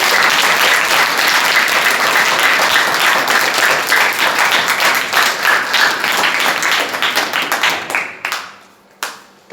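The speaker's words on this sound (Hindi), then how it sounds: "जोरदार तालियां बजाइए।" A church congregation at a Sunday service claps loudly and continuously, a dense wash of applause that thins into scattered claps and fades out near the end.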